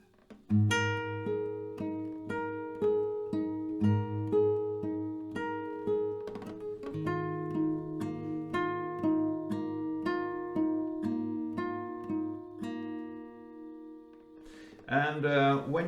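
Acoustic guitar plays a fingerpicked verse and pre-chorus, a steady run of ringing plucked notes heard close and alone, with a brief strum near the end.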